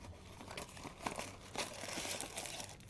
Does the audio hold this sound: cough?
no